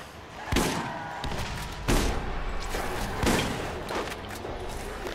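Gunfire in the shooter game Borderlands, with a sniper rifle in use: three or four sharp loud shots spaced about a second and a half apart, each with a short echoing tail over constant game ambience.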